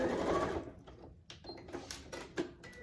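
A sewing machine back-stitching a quilted Christmas stocking runs in a dense burst at first, then gives a few short, separate stitching runs and clicks, close and alone.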